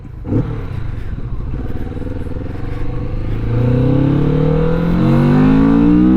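A 2023 Kawasaki Vulcan S 650 Cafe motorcycle accelerating in first gear, its engine drone rising steadily in pitch and growing louder, heard close up and continuous.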